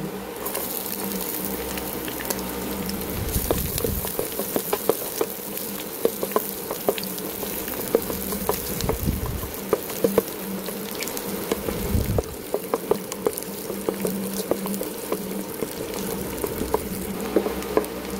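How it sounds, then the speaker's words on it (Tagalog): Garlic sautéing in cooking oil for adobo, a steady close sizzle running the whole time with scattered crackles and occasional stirring clatter, no voices over it. "dito na rin natin igigisa sa gilid. Ayan guys, lagyan natin yung bawang"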